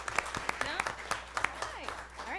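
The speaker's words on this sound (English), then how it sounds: "Can we have a big round of applause for them?" Audience applause at a gathering, heard as sharp, scattered individual claps over a murmur of voices, fairly close and moderately loud.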